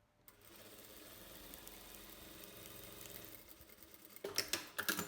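A sewing machine stitching the straight front seam of a lined overcoat: a steady, close mechanical whir running for several seconds, followed by a few louder clicks and handling knocks.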